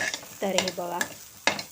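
Onion, tomato and coriander are stirred in a pan with fried bombil (Bombay duck) for a spicy bhujan, giving short scraping and sizzling strokes close by, with a brief spoken phrase between them.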